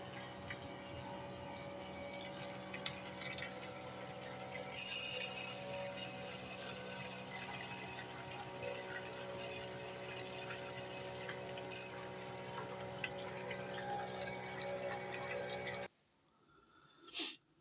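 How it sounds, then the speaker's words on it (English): Clean tap water flushed through the motor of a Club 500 slipway model speedboat during cleaning, a steady running trickle over a low hum that swells into a stronger gush, then cuts off abruptly near the end. "just run some clean water through from the tap"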